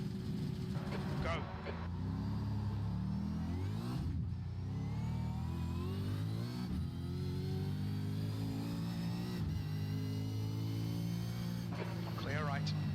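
A V8 Supercar engine in a racing video game revs and accelerates from a standing start, a loud, steady mid-pitched roar that rises through several gear changes and fills the whole stretch.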